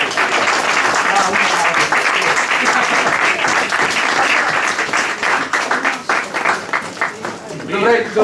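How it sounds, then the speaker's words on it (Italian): A crowd at a Madonna dei poveri celebration in Magherno bursts into loud, close applause, a thick steady roar of clapping that grows choppier and uneven toward the end, with voices mixed into it. "Allora fate un applauso a chi l'ha fatto"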